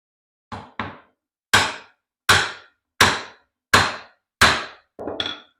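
A chisel is struck into pine wood with a mallet: a quick double tap, then five evenly spaced sharp knocks, each decaying briefly, ending with a softer, scraping hit, all close and without talk.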